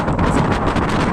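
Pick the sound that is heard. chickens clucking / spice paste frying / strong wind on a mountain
strong wind on a mountain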